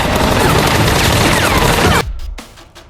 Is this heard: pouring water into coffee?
no